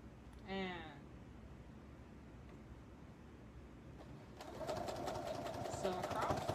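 A sewing machine runs a short stretch of stitching across the ruffle panel of a jean skirt, a steady mechanical whir that comes in partway through after a brief sound, with a voice talking nearby.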